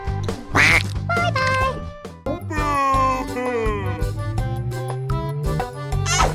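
Several ducks quack in quick bursts, close and fairly loud, with light tinkling and jingling sounds mixed in.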